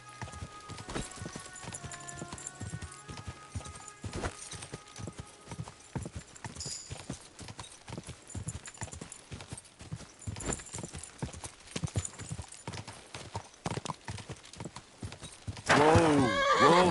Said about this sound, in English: Someone's been pampering this horse.